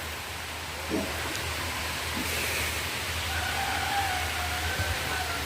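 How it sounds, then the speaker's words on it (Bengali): Heavy monsoon rain pours down steadily at night in rural Bengal, a dense, even hiss holding constant throughout with no voices over it. "বলতে বলতে আবার ঝমঝমে বৃষ্টি এসে গেছে"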